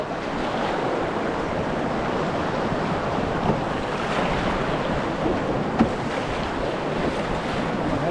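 Rushing, churning river water fills the clip with steady broadband noise, with a few sharper splashes standing out as water slops in over the side of a canoe on the River Spey.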